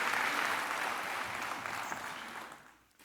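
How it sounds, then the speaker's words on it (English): Sustained audience applause at a President's Medals award ceremony for national scholarships, a dense roomful of clapping that holds steady, then tapers and fades near the end. "Let's give him another round of applause."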